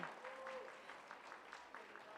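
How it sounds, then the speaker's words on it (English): Faint, distant applause rises from the audience at an elementary school honor roll assembly, a soft continuous patter of clapping with a brief cheer. "Let's give them a great big round of applause."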